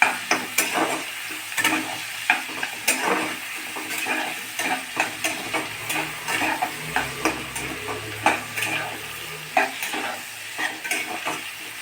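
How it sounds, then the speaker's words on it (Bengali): Potatoes, whole onion and tomato fry in a pan with bay leaf, dried red chilli, cumin seeds, turmeric and salt: a steady close sizzle broken by frequent rhythmic scrapes and knocks of a stirring spatula. "দিয়ে লাল করে একটু ভাজবো"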